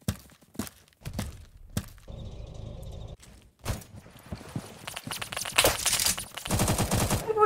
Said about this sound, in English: I keep being shot through walls by the Stoner 96